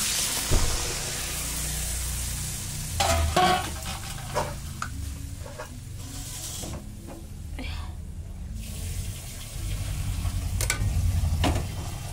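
Coconut milk goes into a simmering prawn malai curry in a home kitchen, with bursts of stirring, sizzling and utensil clatter over a steady cooking hiss; no voices.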